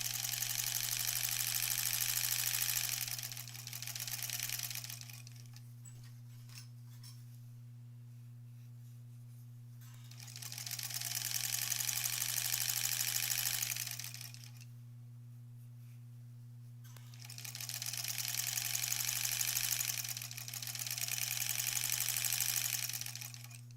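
A sewing machine stitches long rows of a granny squares quilt in three sustained runs of steady whirring, separated by quiet pauses over a constant low hum, with no talking.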